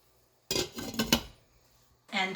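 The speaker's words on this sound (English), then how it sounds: "Okay, so on goes the lid." A lid goes onto a pot of simmering mulberries with a few close metallic clanks and clinks over about a second, then brief quiet before another short burst of kitchen noise.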